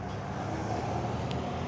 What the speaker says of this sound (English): You can hear a lot of traffic right now